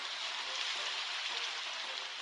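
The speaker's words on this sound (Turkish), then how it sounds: "Yağmur" Steady video game rain hisses evenly throughout, a dense, constant downpour with no other sounds.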